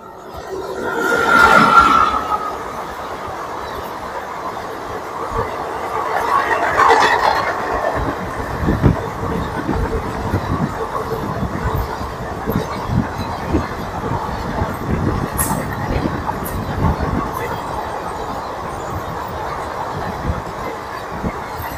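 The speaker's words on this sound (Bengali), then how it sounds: "আমাদের ট্রেন এসে পৌঁছেছে 3 নম্বর প্ল্যাটফর্মে" A train pulls into platform 3 of an Indian railway station, with a loud rumbling approach, clattering wheels and metallic squeal, then a sustained steady clickety-clack as the carriages roll past close by.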